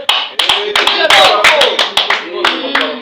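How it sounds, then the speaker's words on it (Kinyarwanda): Sharp, close handclaps ring out in a quick, uneven series of about a dozen beats, with people talking loudly over them throughout. "mwaba umpera amashyi rwose"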